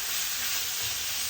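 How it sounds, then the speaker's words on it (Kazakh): Minced meat frying in a little oil in a pan, giving a steady, dense sizzle that stays even and close throughout, with no voices. "тоже жақсылап қуырып аламыз."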